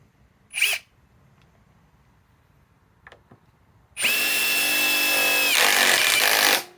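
A Metabo HPT WH18DC cordless triple-hammer impact wrench fires up after a few quiet clicks and handling noises, then runs loud and continuous for about two and a half seconds before stopping.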